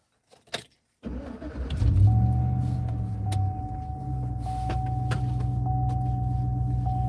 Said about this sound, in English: Let me fire up my truck.